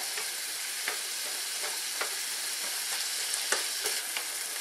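Tomato sauce and meat sizzle and fry steadily in a pan for Italian homestyle spaghetti, with a constant close crackle broken by light scraping stirs. No one talks.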